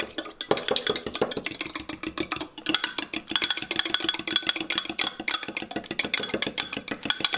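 Seasonings and salt being stirred into shredded zucchini, a steady run of rapid scraping and tapping strokes against a bowl, close and continuous with no talking.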